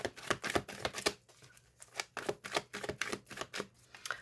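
Tarot cards being laid out on a table, a series of quick, close, crisp card slaps and flicks in an uneven rhythm, alone and quiet.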